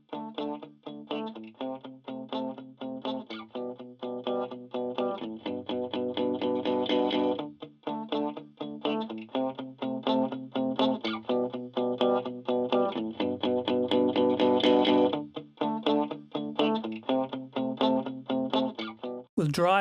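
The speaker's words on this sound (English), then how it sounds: "the virtual analog circuitry overdrives and distorts audibly" A run of plucked melodic notes passes through the REDD 17 console plugin's overdrive, picking up a gritty, saturated edge. Phrases repeat rhythmically and loudly, with a short break near the middle.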